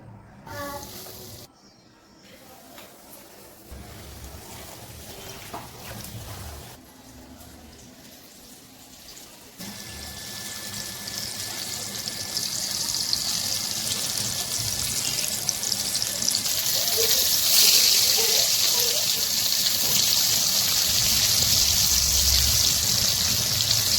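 Chicken leg pieces drop one by one into medium-hot oil, the frying starting quietly and swelling into a loud, steady sizzle that grows denser toward the end.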